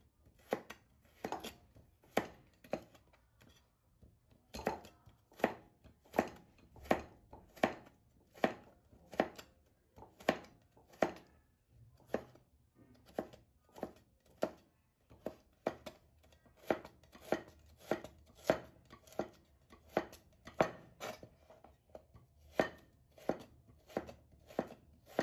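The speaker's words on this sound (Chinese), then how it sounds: "再切细细的丝" A knife cuts food into fine shreds on a cutting board, making a long series of crisp, close, evenly spaced chops that continue steadily with short pauses.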